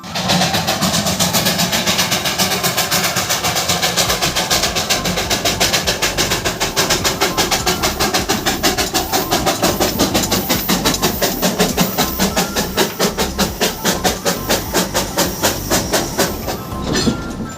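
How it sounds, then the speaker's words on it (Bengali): A coal-fired Darjeeling steam toy train engine runs nearby, a loud continuous roar and hiss with a fast regular chuffing beat throughout, with no talk. "সেকেন্ড টয় ট্রেনটার সামনেটার ইঞ্জিনটা দেখো কত সুন্দর"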